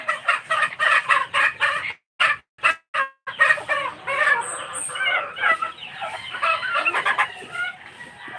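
Chickens cluck in bursty, choppy runs with a rooster crowing among them, close and fairly loud, a brief pause breaking the clucking partway through.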